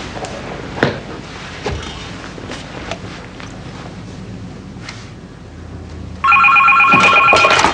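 A telephone's electric bell suddenly rings loud and close near the end, a rapid metallic trill after several seconds of quiet room sounds with a few soft thumps and footsteps.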